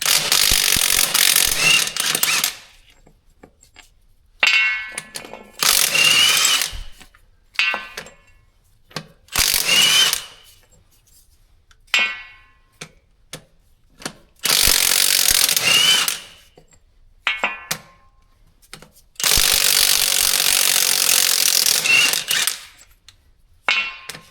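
Six bolts holding a wheel to the wedge locks on an axle are removed with a ratchet wrench, several loud close bursts of rapid ratcheting separated by short silent pauses, repeated throughout with no talk.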